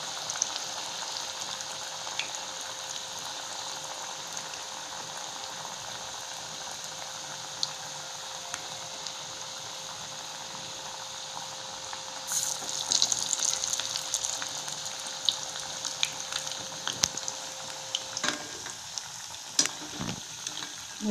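Jackfruit seed vadai fry in oil on a low flame with a soft, continuous bubbling sizzle, close and steady, joined near the end by a few louder utensil clinks and pops.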